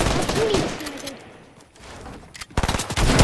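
Video game gunfire during a live-streamed shooter match, dense bursts of automatic shots at the start and again at the end, loud and close, with a quieter stretch between.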